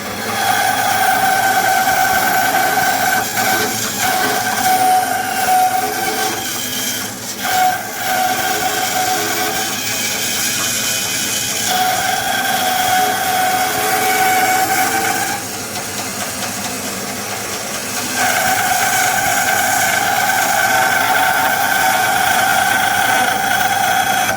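A bandsaw runs steadily through wood, its loud continuous whine holding sustained tones with brief dips as the cut eases, and no talking over it.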